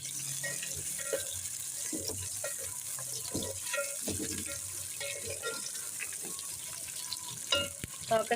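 Chicken and onions frying in a pan, a soft sizzle with stirring scrapes and clinks throughout, fairly quiet and close, with a few louder knocks near the end.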